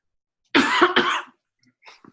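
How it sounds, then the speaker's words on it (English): A woman coughs twice in quick, harsh succession at close range, followed by a quieter throat sound after a short pause, otherwise in silence. "Linda's having a bit of a coughing fit."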